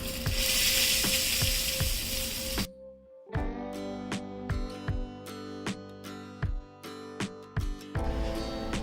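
Cumin seeds and chillies crackle in hot ghee as a tempering for an Indian fasting-style chutney, a loud steady sizzle that cuts off sharply, then bright metallic clinks and taps of a spoon and pan take over before the frying hiss returns.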